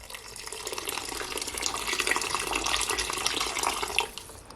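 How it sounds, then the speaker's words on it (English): Hot water from a kettle pours steadily into a cooking pot of Jamaican curry goat, a continuous splashing stream that runs close and fairly loud for several seconds before tapering off, with no talking. "Make sure you add some hot water from the kettle."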